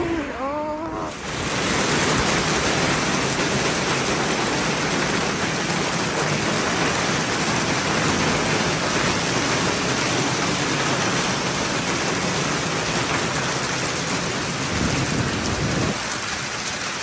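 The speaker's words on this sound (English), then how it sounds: "Raining, it is raining." Heavy rain pours during a hailstorm in Antalya, Turkey, as a loud, dense, continuous hiss that is steady and close, with a few faint sounds at the very start and no talking.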